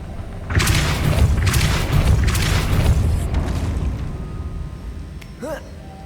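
A Depulso force spell cast in Hogwarts Legacy, heavy booming thumps and rumbling impacts in quick succession, loud and close, fading into softer game sounds.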